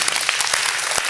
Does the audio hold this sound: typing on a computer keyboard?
no